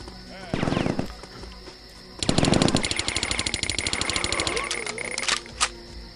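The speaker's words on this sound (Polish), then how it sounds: "Efekt wylatujących łusek." Rapid video game machine gun bursts rattle in a tunnel shooter set in Afghanistan, with tinkling ejected shell casings scattering, a short burst first and then a longer sustained volley, loud and close, with someone talking over parts of it.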